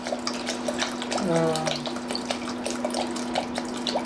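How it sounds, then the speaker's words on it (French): Water is poured into a pot to make a soy-based broth for noodles. It is a steady splashing pour, heard close against kitchen background noise, with a short voiced sound partway through. "Je mets de l'eau."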